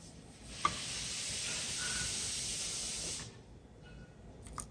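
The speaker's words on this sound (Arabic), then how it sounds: "هسه نحط الدجاج." Chicken dropped into a hot pan with fried onions for roz mash sizzles and hisses loudly. The steady sizzle lasts about three seconds, then fades to a faint crackle, with no talk.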